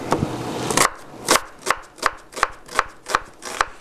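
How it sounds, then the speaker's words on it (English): A kitchen knife cuts through an onion on a cutting board, making about eight crisp, evenly spaced chops close by, with no talking. "when you cut an onion, you want to cut it in half"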